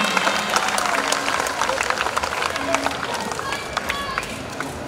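An audience at an official anniversary speech in Biak, Indonesia, breaks into applause, a dense, steady patter of many hands clapping with crowd noise mixed in.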